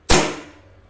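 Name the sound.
airsoft blowback pistol firing a shot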